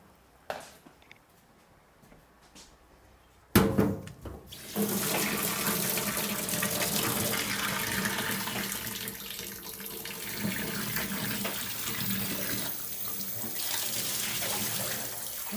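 Cold water gushes steadily from a tap into a sink over Brussels sprouts after a couple of quiet seconds, a loud continuous splashing rush with no talking.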